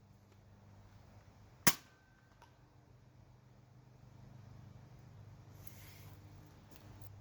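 Nerf blaster firing an AccuStrike dart: a single sharp, close pop from the blaster, followed by quiet outdoor ambience and a faint later rustle.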